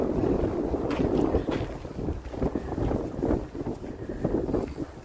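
Strong wind buffets the microphone in low rumbling gusts on the Halifax, Canada waterfront, loud and continuous with no talking.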